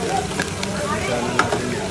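Garlic and onion frying in a pan give off a steady, close sizzle with a few sharp spikes. Background voices murmur faintly under it.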